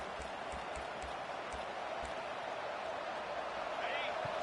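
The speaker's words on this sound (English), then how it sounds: "This crowd bringing the energy and noise early" A stadium crowd in the College Football 25 video game roars in a steady, dense wash of noise that holds at an even level from start to finish, with faint thumps underneath.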